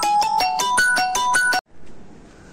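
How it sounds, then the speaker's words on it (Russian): A phone rings with an incoming call: a repeating electronic ringtone melody of bright pulsing beeps, loud and close, that cuts off abruptly partway through, leaving faint room noise. "Звонок меня перебил."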